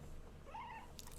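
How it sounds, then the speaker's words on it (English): A kitten gives one faint, brief high-pitched cry against quiet background noise. "Sorry if you hear squeaking or crying. The kitten's chewing on me"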